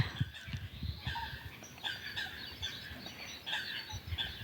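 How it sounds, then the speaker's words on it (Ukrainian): Birds wake up outdoors at a pond in the morning, with a busy mix of chirps and calls and what sounds like gobbling fowl, moderately distant and faint. "Пташине царство прокидається."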